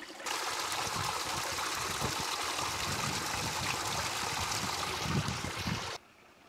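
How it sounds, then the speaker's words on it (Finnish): Water trickling over seaside rocks and running into the sea on a spring coast at Hanko, a steady close wash of flowing water that carries evenly and then cuts off near the end. "liristää menemään tässä meidän jalkojen alla ja valuu mereen tonne noin rantaa mun selän takana"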